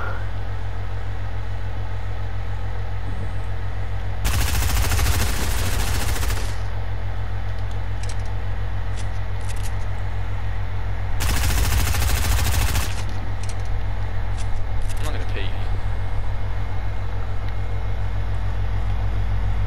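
Two long bursts of rapid automatic gunfire in Fortnite, each lasting about two seconds and spaced several seconds apart, ring out over a steady low engine-like hum with scattered small clicks between.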